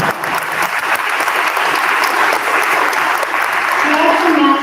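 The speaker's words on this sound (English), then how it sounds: "So let's give Mindy a special round of applause." An audience at a school awards night applauds steadily, a dense wash of clapping filling the room, with some voices audible beneath it.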